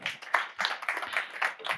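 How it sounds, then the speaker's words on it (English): Audience applause following a talk at an information day on cloud-edge-IoT digital platforms, a short burst of dense clapping from a room of people, steady and moderately loud throughout. "Round of applause."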